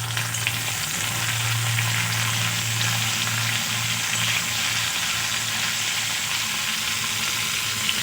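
Cauliflower and potatoes frying together in a pan give off a steady, dense sizzle, loud and unbroken throughout, with faint stirring and no voices.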